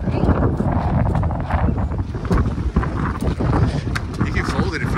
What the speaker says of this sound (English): Wind is kicking.